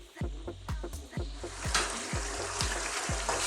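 Jamaican chilli pork frying hard on high heat, a loud dense sizzle punctuated by rhythmic spoon knocks and scrapes against the pan as it is stirred often.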